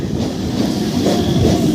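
An old passenger train pulls into Guma railway station with a loud, close, continuous rumble and a rattle of wheels on rails.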